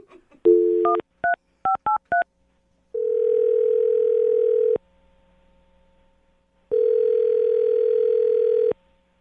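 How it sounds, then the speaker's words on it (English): DTMF keypad tones as a phone number is dialed, a quick run of short beeps in irregular groups, followed by two long steady tone bursts separated by a pause, loud and clear with no talking. "I'm going to dial her phone number right now."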